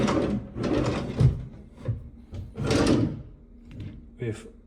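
Drawers in an executive suite at the Putrajaya Marriott Hotel in Malaysia slide open and shut with several wooden thumps and scrapes, close by, while a person talks over them.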